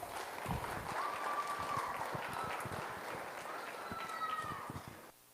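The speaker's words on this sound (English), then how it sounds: "Let's give all three another big round of applause." Audience in the stands at a 4-H market goat show gives a round of applause, scattered but sustained clapping from a modest crowd that fades near the end, with a faint whistle-like tone over it.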